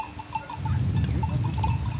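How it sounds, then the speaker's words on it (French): Cowbells clank irregularly over a low rustling din, with faint bleats from a flock of Turkish sheep moving nearby with their shepherd. "on a un troupeau de moutons turcs avec le berger"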